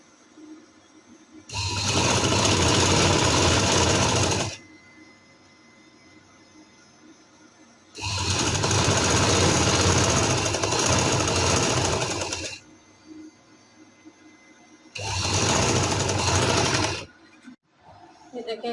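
A sewing machine stitches seams on off-white trousers in three long, steady runs of close, even whirring, each several seconds long, with quiet pauses between them.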